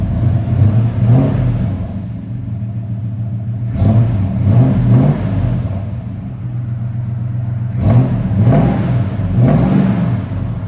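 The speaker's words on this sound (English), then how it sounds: "Here's sound decibels now with it revving up." A 1971 Ford F100 Ranger with a 360 V8, headers and Flowmaster Flow FX exhaust revs hard in three loud bursts, each rising then falling back to a deep, steady idle rumble between them.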